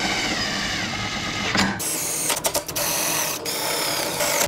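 A rapid mechanical ratcheting or whirring from a tool snugging down the head bolts on a hydrolocked engine, running steadily close by and broken by a few brief pauses.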